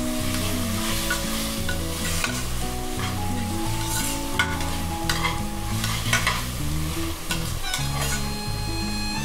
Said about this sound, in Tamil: இந்த கீமா வந்து நம்ம எண்ணெயிலே வந்து நல்லா கலந்து விடலாம்.